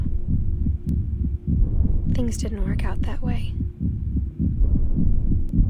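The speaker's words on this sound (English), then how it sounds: "My freaking controller is vibrating with her heartbeat." In the video game What Remains of Edith Finch, a steady, deep heartbeat throbs on without a break while a narrator speaks softly over it.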